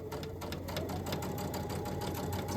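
A sewing machine stitches a jacket facing with a steady, fast mechanical whir and close rhythmic needle ticking, running continuously and evenly at moderate loudness with no talk.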